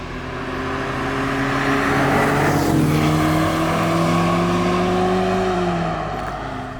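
Lotus Esprit twin-carburettor short-stroke engine pulling hard through the gears, a loud close rising drone that climbs in pitch, drops at a shift around the middle, then climbs again before easing off.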